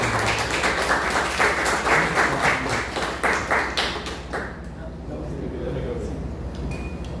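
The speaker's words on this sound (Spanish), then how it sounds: "quisiera, por favor, que lo reciban con un fuerte aplauso" An audience greets a guest speaker with loud, dense applause for roughly four seconds, a faint tone running beneath it, before the clapping thins out and gives way to a quieter room.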